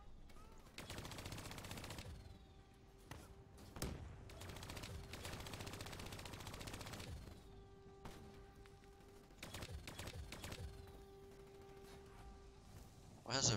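Video game gunfire from Call of Duty Black Ops 3, with several long bursts of rapid automatic fire and single sharp shots over a steady background hum, ending in a loud blast.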